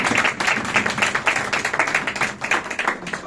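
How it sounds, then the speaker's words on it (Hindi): A church congregation claps steadily together during a worship service, with dense, continuous applause of many hands, fairly loud and sustained throughout. "ताली बजाएं भाई,"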